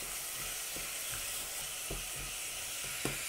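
Carrots stirred into ground beef frying in a pan for a beef samosa filling, giving a constant dense sizzle with soft spoon scrapes underneath, close and even; no talking.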